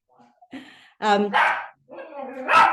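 Dogs in a home bark and yip in several loud, close bursts, with a brief whimper at the start, and no talk over them.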